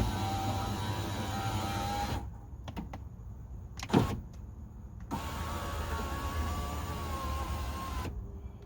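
A BMW E90 power window regulator motor whirs as it raises the glass, a steady close electric hum that cuts off, followed by a thump, then another sustained run of motor whine.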